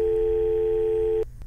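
Steady telephone dial tone from the SpongeBob Battle for Bikini Bottom video game, a loud continuous hum held for just over a second before cutting off abruptly, with no voices.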